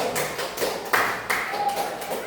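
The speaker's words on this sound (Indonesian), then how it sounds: "Tepuk tangan untuk Mas Kejo." Classroom applause for a student named Mas Kejo, a short burst of dense, close clapping from a group that runs steadily for about two seconds.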